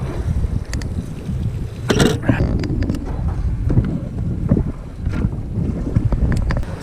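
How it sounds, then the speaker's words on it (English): A fishing boat's big outboard motor running on a lake, a loud low rumble mixed with heavy wind buffeting and water noise throughout. "we're pulling back with the big motor over more towards where we started"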